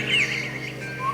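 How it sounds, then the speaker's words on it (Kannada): Bird chirping played as a stage sound effect in a Kannada village drama performance: two brief high chirps, the second fainter, over a steady low hum. "ಹಕ್ಕಿಗಳ ಚಿಲಿಪಿಲಿ"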